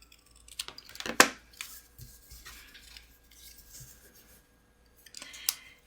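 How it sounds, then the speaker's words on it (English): Scissors snipping through card stock at an angle for a handmade bridge card, a few crisp cuts with one louder snip, close and fairly quiet with light handling between. "I'm going to line it up so that I can see how to cut it basically the same on this end"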